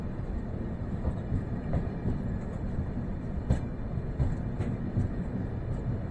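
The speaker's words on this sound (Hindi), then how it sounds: "पटरी से एक मालगाड़ी को गुजरते हुए देखा, जिसका नेतृत्व लोकोमोटिव 3371 कर रहा था" A long Indian Railways freight train led by locomotive 3371 rolls past with a steady, heavy low rumble. Faint periodic clacks and knocks come from the wheels and wagons.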